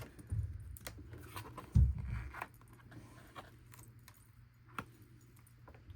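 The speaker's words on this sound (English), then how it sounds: "Told you I'm cutting the notebook itself." Scissors or a blade cutting through a composition notebook, a few close crunching, scraping snips with short pauses between them, then lighter scattered clicks and rustles over a quiet background.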